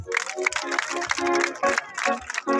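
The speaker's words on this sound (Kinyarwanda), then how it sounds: "kandi mwakomeye Imana amashyi" Church congregation at a revival gathering in Kibungo applauds in rhythmic bursts of clapping and cheering, mixed with loud voices, fairly close and dense.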